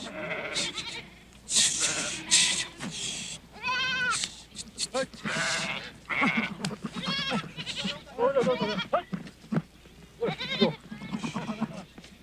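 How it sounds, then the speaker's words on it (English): A large herd of goats gathered near Namche Bazaar in the Everest region, bleating repeatedly with overlapping wavering calls from several animals, some close and loud, over a low background murmur. "almost 500 goats at last are gathered near Namche Bazaar"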